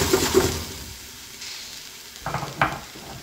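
Chopped onion hits hot oil where garlic has been crisping, for a hare escabeche. Loud sizzling bursts open the moment, then ease to a softer hiss, and fresh sizzles and stirring scrapes flare up again near the end.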